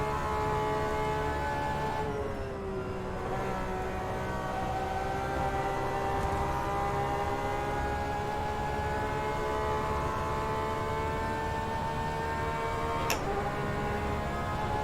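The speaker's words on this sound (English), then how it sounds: "The howling whine of that engine." A racing car engine in an iRacing or rFactor 2 sim howls with a sustained high whine, pitch sagging briefly then holding steady, loud and continuous with a sharp click near the end.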